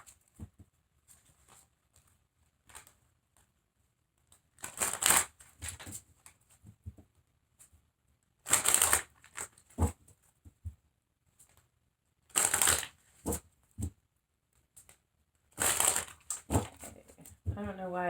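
Several brisk bursts of tarot cards being shuffled during a reading, each a quick crisp riffle, separated by pauses in an otherwise quiet room.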